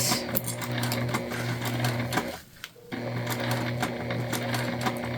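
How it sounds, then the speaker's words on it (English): A sewing machine runs steadily through Otter Tex coated canvas for a shoulder bag, its fast rhythmic whir close and loud, pausing briefly midway before stitching on again. "Make sure where we're stitching is flat."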